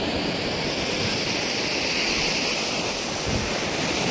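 Waves wash onto the beach at Canyamel, Mallorca during heavy rain, a continuous broad surf roar mixed with wind buffeting the microphone.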